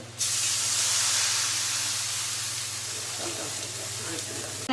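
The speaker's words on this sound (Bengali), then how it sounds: "এবার এর মধ্যে অ্যাড করে দিচ্ছি জল।" Water is poured into a pan of fried potatoes with turmeric, setting off a loud, sudden, sustained hiss and sizzle close by that continues steadily throughout.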